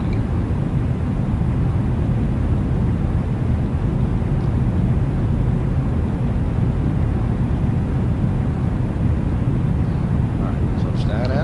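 Aircraft engine drones steadily in a flight simulator game, a loud, constant broadband roar that holds unchanged throughout.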